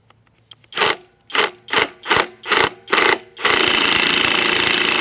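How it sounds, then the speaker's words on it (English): An impact driver with a bolt extractor socket hammers at a stubborn old bolt, working in six sharp rattling bursts about half a second apart, then a steady continuous hammering run, loud and close. "I have my impact driver."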